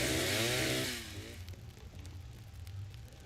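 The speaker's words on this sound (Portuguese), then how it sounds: "O pessoal tá me deixando surdo com esse BR da motosserra." Chainsaw from the video game 99 Nights in the Forest, a loud buzzing whine for about one second at the start, then fading into a quieter background hum.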